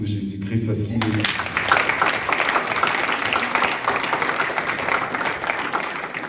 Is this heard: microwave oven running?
no